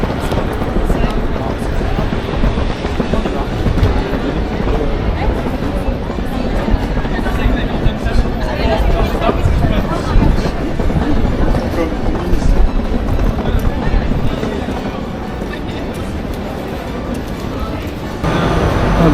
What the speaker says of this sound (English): Oh, this is a train going to Paris, TGV train